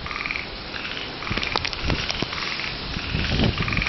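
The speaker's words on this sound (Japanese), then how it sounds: "あ、カエル鳴いてますね。" Frogs croak at night in steady rain beside a pond, a chorus of repeated, pulsing calls over the constant hiss of falling water, fairly close and loud.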